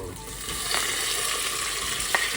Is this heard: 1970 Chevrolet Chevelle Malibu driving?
no